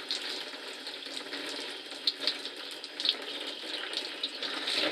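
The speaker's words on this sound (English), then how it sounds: "just run some hot water through there" Hot water runs through a muzzle loader barrel while it is cleaned. It makes a steady, close hissing gush with a few brief splashy spikes and no talking.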